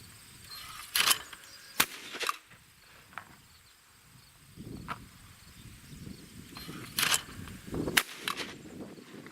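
A Fabarm Elos D2 twenty-gauge over-under shotgun firing light 7/8-ounce loads outdoors: several sharp cracks, some single and some in quick pairs, heard at a moderate distance over faint insect and ambient noise.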